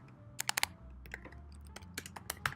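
Quick bursts of keystrokes on a computer keyboard, close and fairly quiet, with irregular clusters of clicks and short pauses between them.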